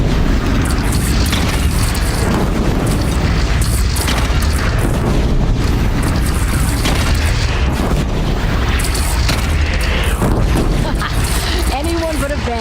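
Cannon fire and explosions from the video game Horizon Zero Dawn boom repeatedly amid dense battle noise, loud and continuous, with a speaking voice mixed in.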